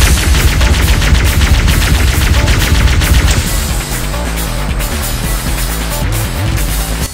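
A plasma rifle in Halo Combat Evolved fires in a rapid, loud, sustained automatic burst, dense rattling shots continuing throughout with a slight change in texture midway.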